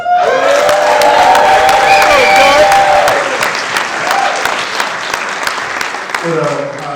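Loud audience applause mixed with cheering and whoops fills a room at a film Q&A event, swelling at first and then gradually thinning out, with a voice starting to speak near the end.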